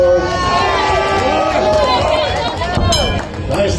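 Crowd cheering and shouting at an armlifting championship during the women's Silver Bullet event, a loud sustained roar of many voices with an announcer talking over it.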